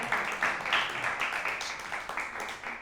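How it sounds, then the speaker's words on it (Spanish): An audience at a magic show claps in a series of short, fairly even bursts, moderately loud and close, with no talk over it. "La gente, cuando se sorprende, aplaude."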